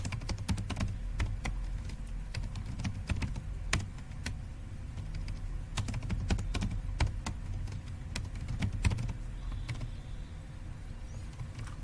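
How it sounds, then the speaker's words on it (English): Steady, rapid typing on a computer keyboard, keys clicking in quick irregular bursts throughout with a faint background hum, no voices. "So I am typing the same code"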